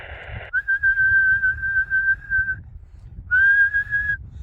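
Two sustained steady whistled tones, the first about two seconds long, then a pause and a shorter second one, whistled into an NM532 microphone on a President George II CB radio, heard through the radio channel.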